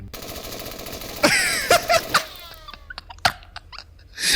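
Cartoonish gunfire in The Henry Stickmin Collection: four sharp shots in quick, uneven succession, each with a short ringing tail, then a few fainter clicks and pops.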